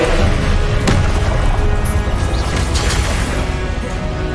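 An Incendio fire spell from Hogwarts Legacy crashes and booms in several loud bursts over a dense, roaring background, with a strong hit near the start and more impacts a couple of seconds later.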